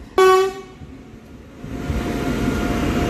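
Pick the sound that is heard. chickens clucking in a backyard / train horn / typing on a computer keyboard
train horn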